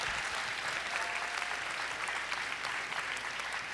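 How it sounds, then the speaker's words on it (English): Audience applause at a school Grandparents Day gathering in a gym, a continuous wash of many people clapping at moderate volume for a few seconds, steady and reverberant. "Let's give them a round of applause."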